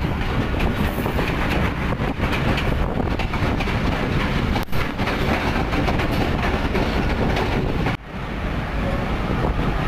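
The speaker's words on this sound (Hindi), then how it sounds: "इस वक्त हमारी ट्रेन डाइवर्ट हो रही है पिंडादर खान रेलवे स्टेशन की लूप लाइन" The 6DN PDK shuttle train diverts onto the loop line at Pind Dadan Khan railway station, heard from aboard as a steady, loud rolling rumble with wheel clatter and wind noise, briefly dipping near the end.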